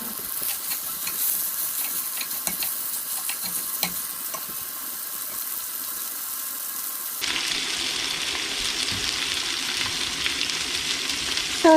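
Sausage frying in reused bacon grease in a pan, with a continuous soft sizzle and occasional stirring scrapes, growing brighter and louder partway through.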